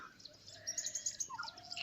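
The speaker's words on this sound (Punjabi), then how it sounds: "ਤਰ੍ਹਾਂ ਤਰ੍ਹਾਂ ਦੇ ਪੰਛੀ ਤਰ੍ਹਾਂ ਤਰ੍ਹਾਂ ਦੀਆਂ ਆਵਾਜ਼ਾਂ" Several birds chirp and whistle faintly in overlapping calls, a soft mix of high tweets and a lower trill.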